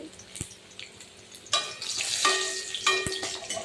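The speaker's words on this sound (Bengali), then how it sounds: "আমি দিয়ে দিচ্ছি রসুন। আমি দিয়ে দেবো শুকনো লঙ্কা দিয়ে একটু ভেজে নেব লাল লাল করে" Garlic and dried red chili dropped into hot oil in a pan, a sudden loud sizzle that swells and crackles, with occasional knocks and clinks of a utensil against the pan, close by.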